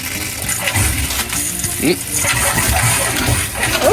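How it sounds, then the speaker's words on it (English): Water gushes steadily from the outdoor kitchen faucet of a Jayco Eagle 312BHOK travel trailer during winterizing, a continuous splashing rush with voices talking over it. "Look at all the water coming out."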